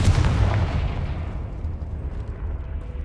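Incendio and Confringo fire spells in the Hogwarts Legacy game, a heavy low boom of a blast that roars at the start, then rumbles and fades into a dull crackling tail.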